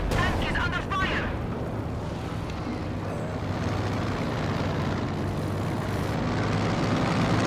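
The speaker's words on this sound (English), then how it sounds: "airstrike coming on and hits the Soviet airstrike" Airstrike and gunfire in a Company of Heroes 2 match pitting Soviet forces against OKW, a dense continuous roar of battle with heavy low rumble and scattered impacts, while a voice talks over it.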